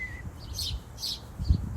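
Small bird singing close by outdoors among plants, two bright chirping phrases then a fainter third, with light rustling and a low thump in the background.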